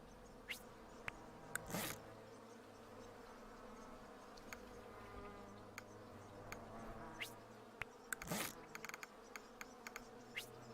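Buzzing bees in the hive-building game Hive Time, a faint, steady hum broken by sharp, brief clicks and louder bursts now and then.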